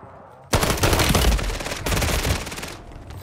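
Loud, sustained automatic fire from an SVA 545 rifle in Call of Duty: Warzone, two long bursts of rapid rounds with a brief break between them, close and dominant with no talking.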